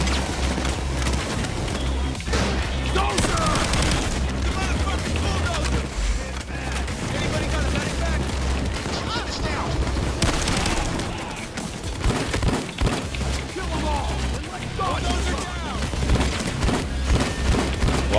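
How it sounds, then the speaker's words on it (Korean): Explosive-round gunfire in Payday 2, with dense, continuous booming shots and blasts layered over heavy game noise, while someone talks over the action. "폭발탄으로 쏘고 있는데"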